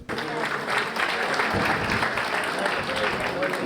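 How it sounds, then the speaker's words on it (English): Hearty applause from an audience at a Gujarat Day community gathering, a short burst of many hands clapping that starts abruptly, stays full and even, then cuts off. "Give him a big applause."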